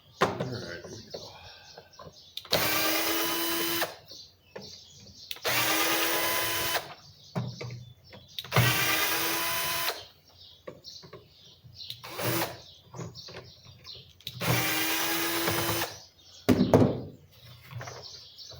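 Cordless screwdriver drill fitted with a Phillips bit driving screws on a 1985 Lawn-Boy mower, five loud close bursts of motor whine separated by clattering handling noise and pauses.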